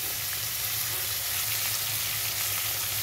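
Tomato hits a hot pan of frying greens and sizzles, making a steady, close hiss and crackle that holds at an even level with no voices over it.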